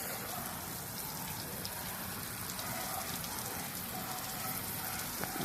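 Heavy rain pours down in a dense, continuous hiss, steady and close with no pauses.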